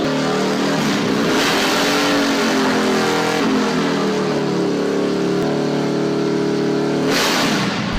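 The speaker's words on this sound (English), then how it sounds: "when I did a burnout on it on my Harley?" A Harley motorcycle doing a burnout roars continuously and loudly, the engine note rising and falling under sustained revving with no talk.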